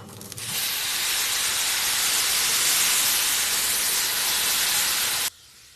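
Water poured into a hot pan of roasting oats for spicy oats erupts into a loud, steady steam hiss and sizzle that holds for about five seconds, then cuts off abruptly, with no talking.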